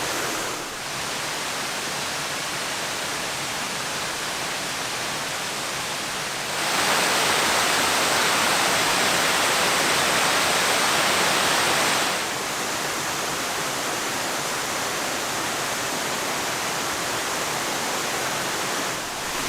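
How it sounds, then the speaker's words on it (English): Waterfall at Pictured Rocks, Michigan, roaring as a steady broadband rush of falling water, close and loud throughout, swelling noticeably louder in the middle section before easing back to its earlier level. "you can get in the second part of the waterfall, kind of the upper part, and the lower part's down here"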